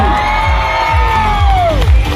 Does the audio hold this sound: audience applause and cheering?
yes